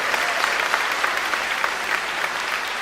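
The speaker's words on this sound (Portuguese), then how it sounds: "A salva de palmas para o Senhor Deus aí." A church congregation at a live worship service bursts into loud, sustained clapping, a close, crisp mass of hand claps with scattered sharper slaps and no speech.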